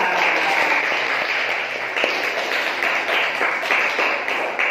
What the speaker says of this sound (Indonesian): Anak-anak, tepuk tangan semuanya untuk penampilan kalian.